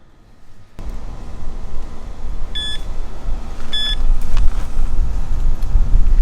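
Two short electronic beeps from a carp fishing bite alarm ring out about a second apart over steady outdoor wind and low rumbling background noise by a river.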